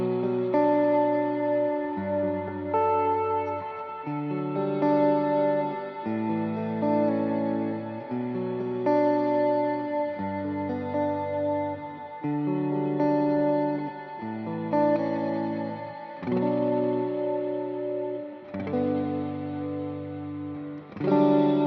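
Guitar through a magneto effect pedal, steady picked chords and notes with a warbling, echoing modulation that smears each phrase into the next, played alone at a fairly strong, even level.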